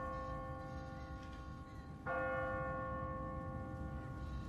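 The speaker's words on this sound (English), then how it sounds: "What kind of church bell goes off at 20 past the hour?" An automatic church bell in The Walking Dead game rings out once, a bright resonant strike that hangs and slowly decays over a low ambient rumble.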